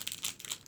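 Foil being pulled out gives a brief, faint crinkle, a few light rustling crackles close by.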